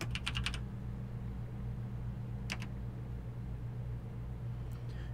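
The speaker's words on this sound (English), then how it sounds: "Now we're going to type select disk 3." A few short bursts of typing on a computer keyboard enter a DISKPART command, with quick key clatters at the start, in the middle and near the end over a quiet, low hum.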